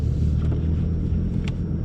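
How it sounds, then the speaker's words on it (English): A 2020 Ford Mustang driving on a snow-covered road, its engine giving a steady, low rumble close by, with no talk over it. "Well, the car's getting traction, it's not spinning."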